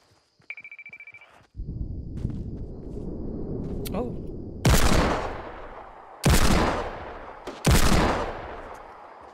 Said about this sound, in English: More shooting over here.